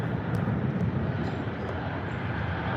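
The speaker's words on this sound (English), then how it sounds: "E175 now throttling up for departure on runway 24 left" An Embraer E175 jet spools up for departure on LAX runway 24 left, heard as a steady, broad engine roar at a fair distance with no talk over it.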